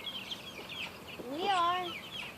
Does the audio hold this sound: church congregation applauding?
no